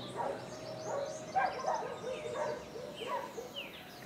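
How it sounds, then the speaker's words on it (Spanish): Outdoors near a garden at dawn, dogs bark in repeated short bursts from a moderate distance while birds chirp and call in the background, the whole scene fairly faint. "se escuchan los perros, las aves"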